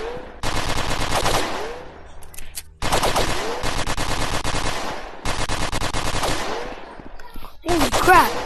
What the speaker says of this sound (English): I got the AK-47